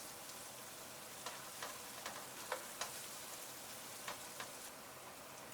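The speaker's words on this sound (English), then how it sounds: "Then add the ginger and garlic into the pot and fry for another minute." Ginger and garlic fry in a pot with a faint, steady sizzle, broken by a handful of soft crackles and pops spread across the seconds.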